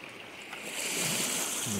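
Sea waves wash up on a beach where amber is being searched for, a broad continuous surf rush swelling slightly louder, close by, with no talk.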